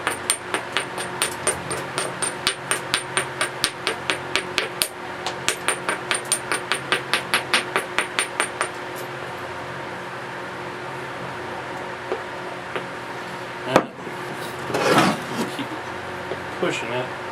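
Flint knapping: a stone hammer strikes end-thinning flakes off a unifacial flake tool. Sharp clicking blows land in a fast, even series for about nine seconds, then give way to quieter scraping and a few isolated knocks.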